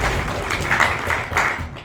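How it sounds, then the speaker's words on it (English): Brief applause from the audience at a debating grand final, a dense wash of many hands clapping at moderate loudness for a couple of seconds, with no talking over it. "Let's have a quick round of applause for A1 and"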